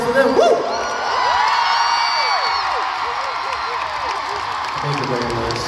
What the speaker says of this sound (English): can I get a big round of applause for them?